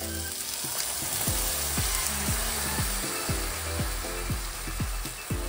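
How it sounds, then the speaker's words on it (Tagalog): Coconut milk poured into a pan of onion and ginger frying golden brown, with a steady loud sizzle and repeated rhythmic scraping of a utensil against the pan, no talk. "Lalagay ko naman ngayon yung coconut milk"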